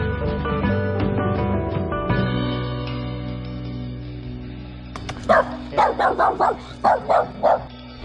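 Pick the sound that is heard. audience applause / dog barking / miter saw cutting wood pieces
dog barking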